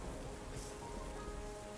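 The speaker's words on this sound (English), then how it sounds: "now it's raining and everything becomes green" Steady, even rain hisses in Terra Nil, a broadband wash of falling drops holding at one level throughout, with no voices and no thunder.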